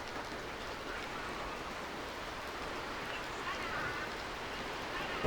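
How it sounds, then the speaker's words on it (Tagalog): Light rain falls steadily as a soft, even hiss, faint and continuous with no talk over it. "Panay pa rin ang ulan."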